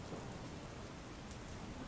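Heavy rain pours down steadily during a downpour in Mehsana, a dense, even roar of falling water and splashing drops that stays loud and constant throughout, with no voices.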